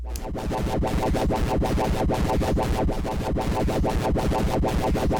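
Knots synthesizer module for the Music Thing Workshop System in stereo mode, producing a steady, loud, dense rhythmic pulsing tone with rich harmonics that repeats quickly and evenly, with no talking.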